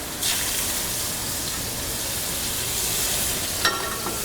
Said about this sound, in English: So you want to hear that sizzle